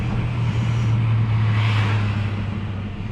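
Steady road traffic rumbles in through an open car window while driving, a continuous moderate wash of engine and tire noise with a brief swell as another vehicle passes, no voices.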